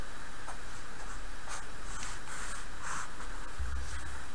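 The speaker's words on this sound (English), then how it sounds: "So if I draw my circuit here," A pen drawing a circuit diagram, with light scratchy strokes and short taps at close range over a steady background hiss, no talking.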